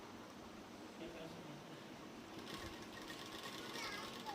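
A sewing machine stitches steadily and slowly while attaching the gusset of a salwar, a continuous close whir with a faint background hum.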